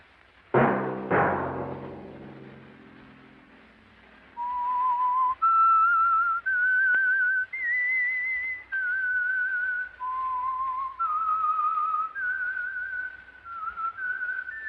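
A lone person whistles a slow, steady melody of sustained notes, clear and close, after a couple of brief low knocks at the start.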